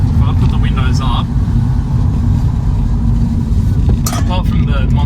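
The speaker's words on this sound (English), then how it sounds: "you hear a little bit of road noise" Steady road noise fills the cabin of a 2006 Volkswagen Golf GTI Mk5 on the move, a constant low rumble from the tyres and engine, with a few faint higher chirps and ticks over it.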